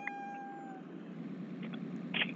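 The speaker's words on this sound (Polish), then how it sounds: "Co za kot, goddammit." A single drawn-out cat meow from a Roblox snow simulator game, clear and fairly close against a low steady game background hum, with no talking.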